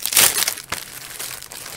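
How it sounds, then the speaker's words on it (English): A plastic package being torn open with small scissors, heard as a loud burst of crinkling and crunching, then a sharp snip and quieter rustling, close by with no talk. "I'm tearing it open with these cute little scissors"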